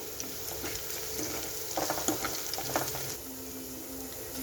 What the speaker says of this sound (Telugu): పచ్చిమిర్చి రెండు వేసి మంచిగా వేయించుకోవాలి కరివేపాకు వేసుకోవాలి